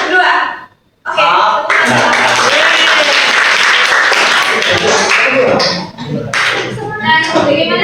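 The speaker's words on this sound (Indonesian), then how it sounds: "Tepuk satu. Tepuk dua. Tepuk tiga." Students in a classroom clapping game clap in quick bursts, a brief pause, then a long stretch of loud crowded clapping with voices and chatter mixed in, tapering into scattered claps.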